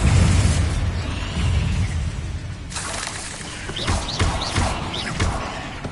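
Bombarda spell in Hogwarts Legacy: a booming magical blast with a heavy low rumble, followed by a sharp shattering burst and scattered popping crackles as debris settles.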